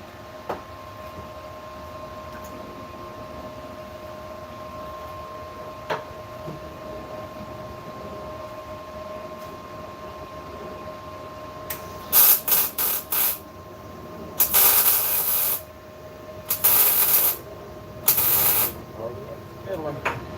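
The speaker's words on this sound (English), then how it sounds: "Just need to weld it up" Welding on a twin turbo Dodge Dart, short bursts of crackling hiss repeating in irregular spurts over a low steady hum.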